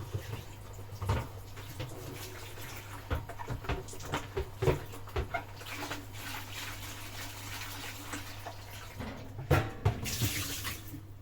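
Water splashes and trickles steadily from a tap, with occasional clinks and knocks of dishes being handled close by.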